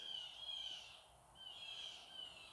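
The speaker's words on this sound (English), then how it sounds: "I've got some birds going crazy outside." Birds calling outdoors in two repeated bursts of thin, high-pitched calls over a soft background hiss, faint and distant, with no talking.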